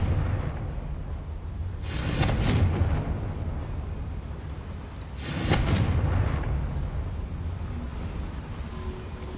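Two booming blasts from the Confringo fire spell in the video game Hogwarts Legacy, each a loud roaring burst with a rushing whoosh, spaced a few seconds apart over a low background rumble.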